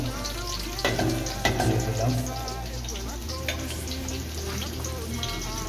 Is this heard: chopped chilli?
yes